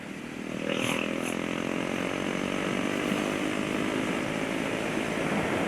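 A KTM 1190 or 1290 motorcycle roars past close by, its engine building quickly to a loud, steady drone that holds under wind rush.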